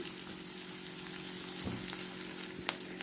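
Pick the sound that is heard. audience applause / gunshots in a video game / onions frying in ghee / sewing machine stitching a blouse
onions frying in ghee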